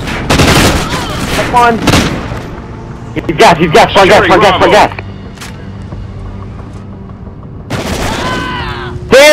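Gunfire in a 4v4 Domination shooter game on the Pier map, heard as bursts of shots between loud, excited team chatter, with a short clattering volley in the middle and more shooting near the end.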